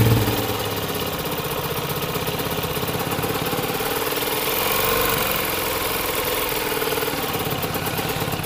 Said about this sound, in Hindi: ये जो बेसिकली इसकी जो साउंड है टैपर्स की, टैपर्स आवाज भी कर रहे हैं